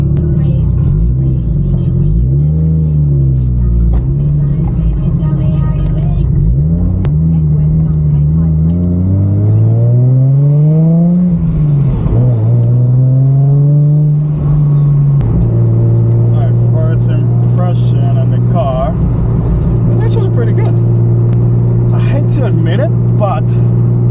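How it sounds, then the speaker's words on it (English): A 500 HP Nissan S15 with an RB25 engine drives and revs on a road in Auckland, its engine note climbing and falling through several gears, loud and close throughout, with talking over the engine. "we're just going for a quick drive"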